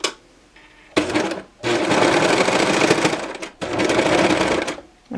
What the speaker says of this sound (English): I'm going to send them through the serger all in the same direction.